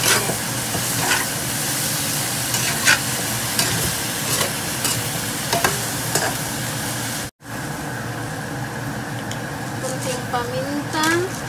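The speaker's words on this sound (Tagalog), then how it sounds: "hiwang pinya, ilagay na natin. Mabilis lang ito guys, kasi luto na yung karne natin." Pineapple chunks stirred into already cooked frying pork for Bicol express, a constant sizzle with repeated clicking stirs of the utensil against the pan, while someone talks over it; a brief dropout midway.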